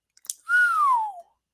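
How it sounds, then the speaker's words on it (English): A single clear whistle, a smooth tone that holds steady and then slides slowly downward for under a second, preceded by a couple of faint clicks, heard alone and fairly loud. "And yes, I added that whistle intentionally."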